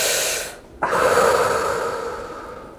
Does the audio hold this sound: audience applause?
no